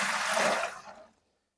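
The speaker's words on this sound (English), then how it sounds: "You can just pour hot water into the bucket" Hot water being poured into a plastic bucket, a rushing, splashing stream heard up close. It stops abruptly after about a second, leaving silence.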